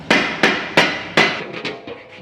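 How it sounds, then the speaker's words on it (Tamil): A lid is set onto a large pot of Dindigul-style wedding biryani to seal it for dum cooking: four loud, sharp knocks in uneven succession, followed by a few softer taps and clatters. "இப்போ வந்து மூடியை போட்டு தம் போட்டுடலாம்"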